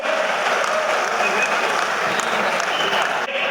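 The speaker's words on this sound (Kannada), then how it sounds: "ಒಂದು ಚಪ್ಪಾಳೆಯನ್ನ ತಟ್ಟೋದ್ರ ಮೂಲಕ ಆ ತಂಡಕ್ಕೆ ಪ್ರೋತ್ಸಾಹವನ್ನ ಕೊಡಬೇಕು" An audience applauds to encourage a team at a political rally, dense continuous clapping from a crowd, loud and steady throughout.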